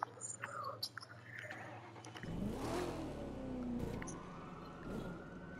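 A car engine revs and accelerates while driving in The Crew 2 video game, starting suddenly partway through with climbing, shifting engine pitch at moderate loudness.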